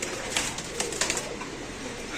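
Racer pigeons in cages at a busy market keep up soft, repeated cooing close by, over a steady background murmur.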